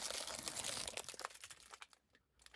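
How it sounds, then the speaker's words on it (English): Plastic packaging crinkles and crackles as a viscose yarn cake is pulled out, a close, quiet, irregular rustling that thins out toward the end. "Sorry for the crinkling."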